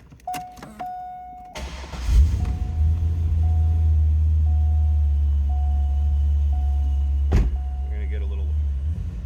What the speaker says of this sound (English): Supercharger whistle there.